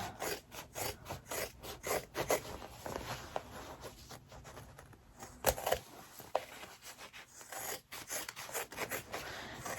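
Scissors snip through excess fabric while a zipper bag is trimmed, giving a series of close, irregular cutting and rubbing sounds with short pauses between cuts.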